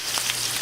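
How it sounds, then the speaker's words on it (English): Duck breast fries skin-side down in a pan on low heat, giving a brief, soft, steady sizzle heard close and alone. "Alright, we still have some sizzle going on."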